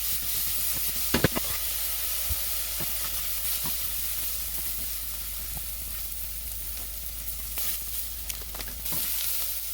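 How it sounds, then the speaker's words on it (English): An onion sautéing in a pan for a Texas-style BBQ brisket mop, a continuous hissing sizzle with occasional clicks and scrapes of stirring, close and steady with no talking. "We're gonna saute 1 onion until it's translucent"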